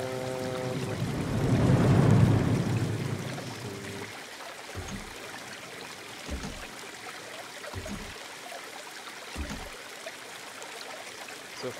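Water rushing and splashing in the video game Planet Coaster, a swelling waterfall-like roar that fades into a steady low trickle, punctuated by a few soft, regularly spaced thuds.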